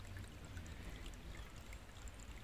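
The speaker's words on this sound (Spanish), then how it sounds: "tiene este caño o pita, del que emergen sus aguas" Water runs steadily from the spout of a spring-fed public fountain, a faint continuous trickling flow with no pauses or voices.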